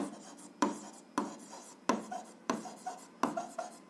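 A pen scratches quickly across paper while a math solution is written out, in short rhythmic strokes with brief pauses between words, close up and quiet.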